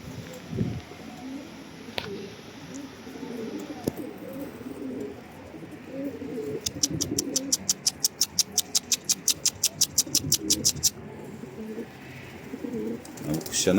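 Soft bird cooing near by, with a rapid burst of sharp repeated clicks in the middle and some background shuffling.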